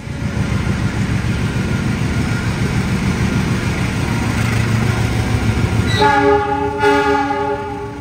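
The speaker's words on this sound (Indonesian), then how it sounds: "kita rekam dulu kereta api Argo Sindoro Tambahan yang di dalamnya ada Mas Irja" Argo Sindoro Tambahan passenger train departing Semarang Tawang station: a steady loud rumble of rolling carriages close by, then a long multi-tone horn blast sounding near the end.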